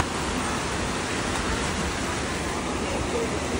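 Heavy rain pours down steadily at an outdoor camping-car festival in Hokuriku, a dense, loud, unbroken hiss of falling water that fills the whole stretch without pause.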